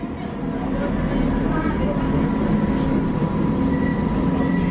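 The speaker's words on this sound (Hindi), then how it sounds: "अभी हम लोग ट्रेन में बैठ गए हैं, यहाँ की जो ट्रेन है" Passenger train in Istanbul heard from inside a carriage, a loud, steady rumble and rolling hum that runs throughout, with faint voices mixed into the noise.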